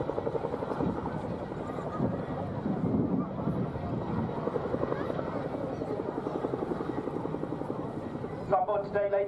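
An RAF Chinook helicopter flies a display at the 2019 Torbay Airshow, its rotors giving a steady, loud, throbbing drone with wind buffeting throughout, and a faint voice comes in near the end.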